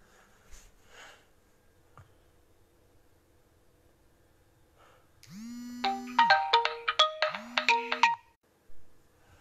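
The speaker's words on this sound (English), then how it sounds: "Phone call came through and I had to end the phone call." A mobile phone rings with an incoming call, a loud bright electronic ringtone of rising tones and quick repeated melodic notes that starts midway and stops abruptly, after quiet room noise.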